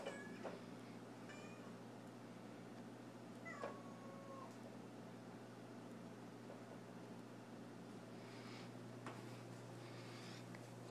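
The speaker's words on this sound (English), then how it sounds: "What you meowing about?" A cat meows several times, short high calls scattered over a steady low hum, fairly close and moderately loud.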